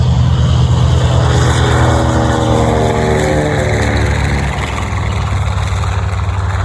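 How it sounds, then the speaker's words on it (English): A B-25 bomber's piston engines with short exhaust stacks roar loudly and steadily overhead at a WWII weekend air show, a deep throbbing drone with no talk. "Nothing better than being interrupted by a B-25."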